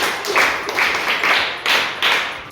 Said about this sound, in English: All right, clap for yourselves.